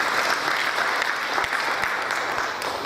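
Steady, moderately loud clapping from an audience at a first-anniversary celebration of a Catholic association in Lucknow, a dense even round that continues throughout without talk.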